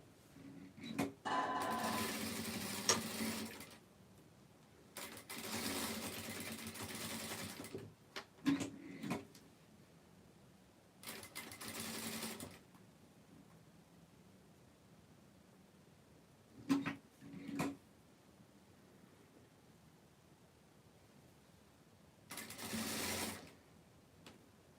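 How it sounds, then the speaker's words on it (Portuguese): A sewing machine runs in repeated bursts of a few seconds each as it stitches around the edge of an aviator-style piece, with short pauses and handling between runs; no talking. "Então, vou costurar aqui toda a volta."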